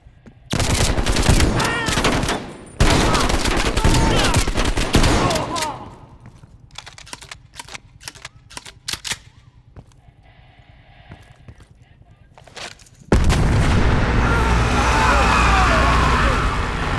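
Heavy gunfire in Call of Duty Black Ops Cold War: dense, loud automatic bursts and blasts, easing into scattered sharp shots, then surging back into a thick, roaring barrage of fire and explosions, with voices calling out amid the combat.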